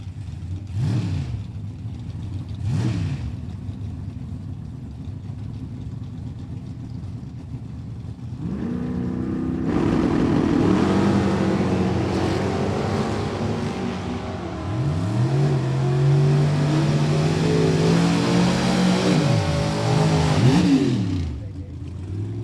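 At a Super Pro drag race, a Camaro and a 1971 Oldsmobile are staged with an announcer talking, then launch into a loud, sustained engine roar with rising pitch sweeps at each gear change before easing off.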